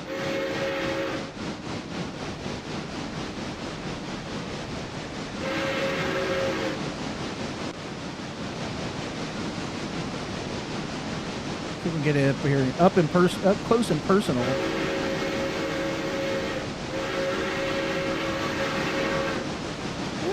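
Train whistle in the Railroader video game: sustained tonal whistle blasts sounding in several bursts over a rumbling rolling train, with someone talking across the middle section.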